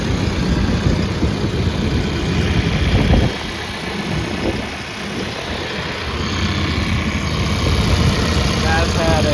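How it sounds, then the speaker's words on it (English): A Case 580 N 4x4 backhoe loader's engine runs at a steady idle with the hood open, a loud, close, continuous diesel rumble with a brief dip midway. "I want to pop this hood and show you the motor running."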